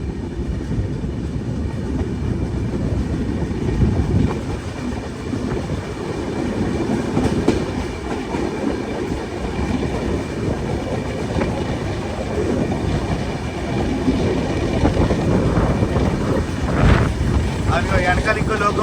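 A Prayagraj to Visakhapatnam Kumbh Mela special train runs along the rails, a continuous rumbling roar with clickety-clack wheel beats and wind buffeting, heard steadily from on board.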